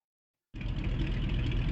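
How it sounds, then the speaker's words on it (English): The radial engine of a de Havilland Beaver floatplane kicks in abruptly after a short silence and settles into a steady, loud, close rumble, with no talk over it. "Okay, engine's running nice and smooth."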